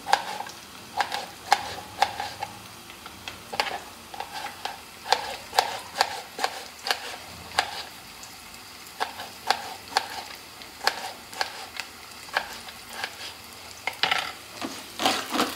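Chopped tomato frying with onion in a home kitchen pan for a spicy black crab dish, a steady sizzle broken by repeated scraping stirs and clicks of a spatula, with no talking.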